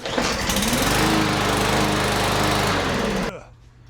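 A small gasoline engine, freshly rebuilt after a clogged carburetor, roars steadily and loud close by for about three seconds, then cuts off abruptly into quiet.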